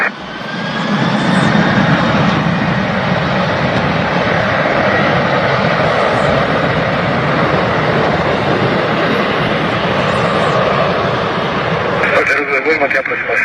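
A general aviation airplane engine roars loudly and steadily through a takeoff roll at an airport, holding a constant drone with a faint rising whine and a brief shift near the end.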